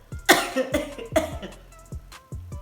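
Two hard, close coughs in quick succession, followed by a few smaller, fainter coughs trailing off.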